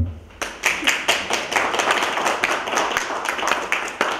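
Warm applause for a woman being named an honorary citizen of Kadzidło gmina, a small audience clapping in distinct, fairly sparse claps that start abruptly and keep going steadily, close by.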